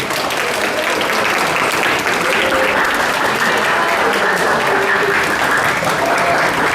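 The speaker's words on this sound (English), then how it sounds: "So guys, give a big round of applause for Cambodian hospitality" A large crowd applauds steadily and loudly for a sustained stretch at an event honoring Cambodian hospitality, dense clapping with no pauses.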